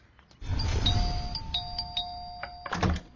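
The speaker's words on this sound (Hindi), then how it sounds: "कितना डोरबेल मारता है, क्या लगा यहाँ? दो टाइम घंटी क्यों मारता है?" A doorbell rings twice in a home: two bright electronic ding-dong chimes in quick succession, close and clear, followed by a soft thunk and faint room noise.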